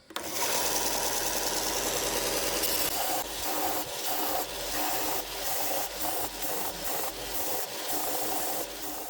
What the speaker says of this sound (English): now I need to take care of the mess I made, and for that I'll use the belt sander